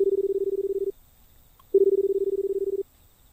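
Ringback tone from a payphone calling the police in a video game: two long, even buzzing pulses with a pause between them, clear and close, with no talking.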